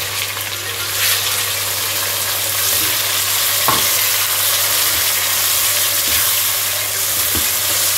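Garlic sizzles and fries in a pan, with tomatoes going in for Chinese biryani fried rice, a loud steady hiss broken by a few soft stirring knocks and scrapes.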